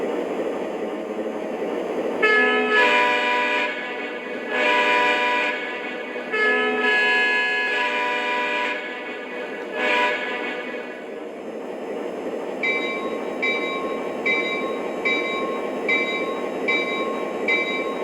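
A Lionel Long Island C420 model diesel locomotive, a Red Wave hobby edition, starting up with sustained electronic engine drone and bell-like horn tones, followed by a steady rhythmic pulsing pattern, loud and close with no talk.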